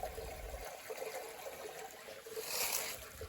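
Water trickling down a hillside channel at Udayagiri, a soft, steady dribbling flow close by, fairly quiet with a brief brighter splash partway through.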